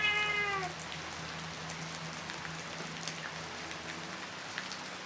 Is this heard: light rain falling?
yes